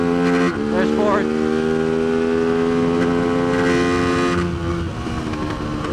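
A Tianda TDR300 motorcycle at Mission Raceway shifts into fourth gear: the loud, close engine whine dips and wavers at the shift, then holds a strong steady tone before easing off.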